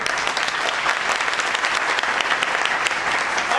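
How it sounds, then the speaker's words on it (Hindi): A training-hall audience at a network marketing meeting in Meerut breaks into loud, dense applause, a steady wash of many hands clapping together throughout. "रविंद्र कुमार शेट्टी जी का जोरदार तालियां।"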